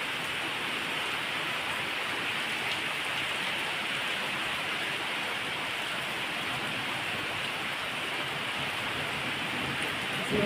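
Summer rain pours down in Hyderabad, a steady, dense hiss of falling water that holds evenly throughout with no voices.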